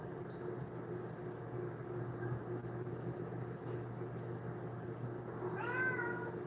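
A single cat meow rises near the end, following several seconds of quiet indoor hum.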